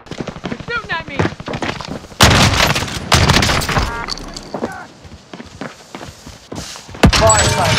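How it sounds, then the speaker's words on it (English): Gunfire in Call of Duty: Warzone, with bursts of shots and heavy impacts sounding loud and close, mixed with thumps and footsteps while voices talk over the action. "Shooting at me."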